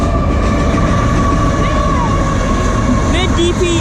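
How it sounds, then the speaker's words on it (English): CSX freight train with a mid-train DPU locomotive passing close by, a steady loud rumble of rolling cars and wheels on rails with a faint squeal, as voices speak over it. "There's the middle engine. Woo! Mid-train DPU."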